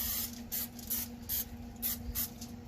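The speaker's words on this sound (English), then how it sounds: "give this a spray with the oil." Repeated short bursts of oil spray onto raw chicken, about six quick hisses in an uneven rhythm, close and fairly loud over a steady low hum.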